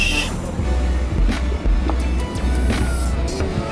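Road hum inside a moving car, a steady low engine and tire rumble with faint rattles and light knocks over the top, and no one speaking.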